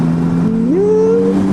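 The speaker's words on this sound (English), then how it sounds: "Look at the sound of this engine, it's amazing" A 2021 Yamaha Tracer 9 GT motorcycle engine idles with a steady low hum, then revs up into a higher, sustained whine before easing slightly.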